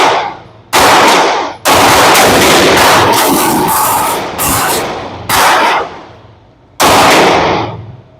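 Rapid bursts of gunfire from a Maxim Defense PDX rifle in .300 Blackout at an outdoor range, several loud strings of shots separated by short pauses, each tailing off in echo.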